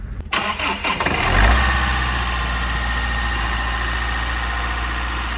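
A Mazda Skyactiv diesel car engine cranks briefly, catches, then settles into a steady, loud, even idle with a low rumble.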